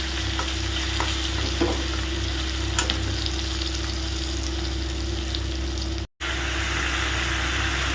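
Green chilli, grated ginger and cumin fry in hot oil with a loud, continuous sizzle. Stirring clatters and scrapes over it, and the sound drops out for a split second near the end.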